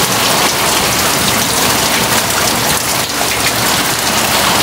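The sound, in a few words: heavy typhoon rain pouring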